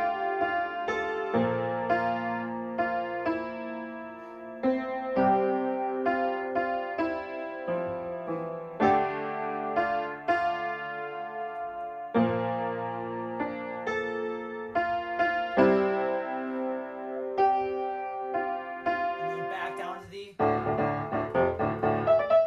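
Piano plays the bass line and vocal melody of CM Punk's WWE theme together, steady low notes under a melodic right hand, moderately soft and alone, with a brief busier flourish near the end.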